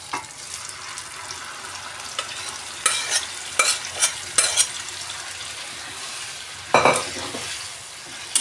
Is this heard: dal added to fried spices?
yes